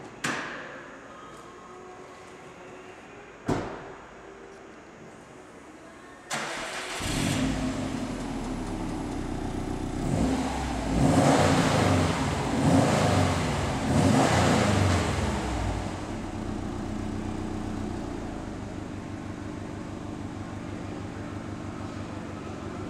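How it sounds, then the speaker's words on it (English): A 2009 Subaru WRX STI with stock exhaust, heard as a few clicks and a cranking start, then a loud throaty idle rising into several revs before settling back to a steady idle, recorded close by. "I'm going to take the opportunity to start this vehicle so you can actually hear it."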